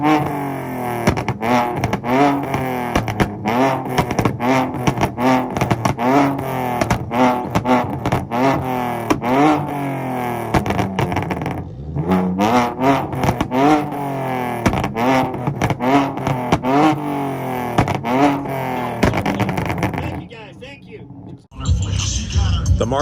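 Several show car engines, including a Nissan, rev over and over at an import car show, rising and falling in loud repeated bursts, up close. Voices talk and shout now and then beneath the roar.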